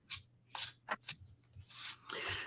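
A deck of playing cards is shuffled ahead of a question game, giving a series of quick riffling and rubbing bursts, about six in a row, close and fairly soft with a faint steady hum underneath.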